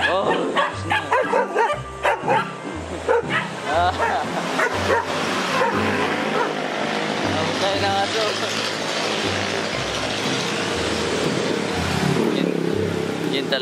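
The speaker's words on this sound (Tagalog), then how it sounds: "Paborito akong kahulan ng aso." A dog barks and yips repeatedly nearby, with some whimpering, while a person talks excitedly over it and traffic hums in the background.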